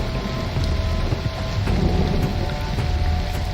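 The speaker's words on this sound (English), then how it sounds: "a crash of lightning across the sky. You can hear torrential rain start to pour just outside the building" Torrential rain pours outside a building, a dense, loud, continuous roar of heavy water with low thunder-like rumbles swelling beneath it.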